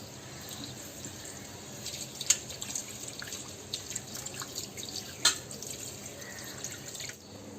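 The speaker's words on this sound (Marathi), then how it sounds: "आता आपण व्यवस्थित तर म्हावरा धुवून घेऊया" Pomfret (saranga) fish are washed under running water in a kitchen, giving a faint steady hiss of flowing water broken by a few brighter drips and splashes, close by, with no voices.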